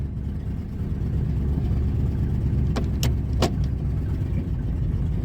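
A 2000 Ford F150 engine idles erratically and chugs, a steady low rumble filling the clip with a few brief sharp clicks near the middle.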